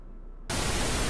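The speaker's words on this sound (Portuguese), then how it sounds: "E agora eu faço o ajuste de ruído rosa" Pink noise test signal from a car audio digital signal processor's audio generator, switching on abruptly as a loud, steady, even hiss after a brief quiet hum.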